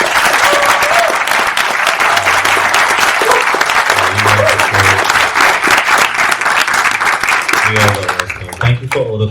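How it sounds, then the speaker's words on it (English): An audience at a film screening breaks into sustained, dense applause, loud and continuous before it thins and fades near the end, with a few voices rising over it. "can we get a round of applause?"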